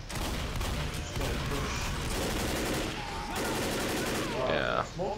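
Game gunfire in the co-op shooter Left 4 Dead, No Mercy campaign: dense, continuous bursts of automatic weapons fire at close range, loud throughout, with brief voice chatter mixed in.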